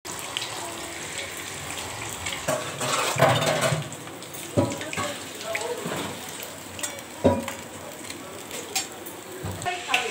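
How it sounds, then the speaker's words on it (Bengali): Fish frying in a pan in a home kitchen, a steady sizzle and crackle with scattered sharper clatters and splashy bursts, close, and no talk among them. "মাছ ভাজা হচ্ছে।"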